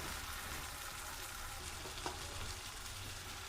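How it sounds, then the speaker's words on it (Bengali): Chicken goes into a spice paste frying in hot oil, with a steady bubbling sizzle throughout and a faint clink of utensils midway. "এবার দিয়ে দেবো চিকেনটা"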